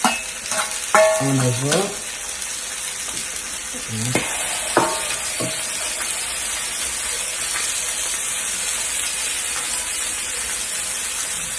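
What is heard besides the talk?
mushrooms frying in a pan for English breakfast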